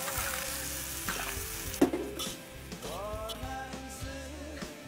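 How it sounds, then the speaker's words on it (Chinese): Softshell turtle stir-fried with pork belly, ginger and garlic in a wok, a close crackling sizzle with a sharp clank of the spatula and a few scraping strokes, steady throughout. "五花肉炒出油了，放点姜蒜，姜蒜炒香了，把甲鱼也倒下去。"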